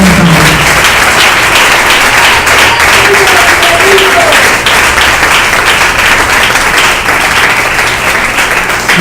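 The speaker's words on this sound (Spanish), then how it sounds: "Bríndele fuerte el aplauso al Señor." A large church congregation applauds loudly and continuously, a dense wash of clapping that holds steady throughout.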